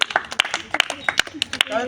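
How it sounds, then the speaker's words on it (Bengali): Outdoors at a village bowl-knocking game, a crowd gives scattered, uneven claps beneath a voice. "তার জন্য সকলে জোরে হাততালি।"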